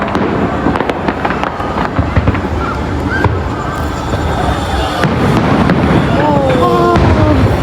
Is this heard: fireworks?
yes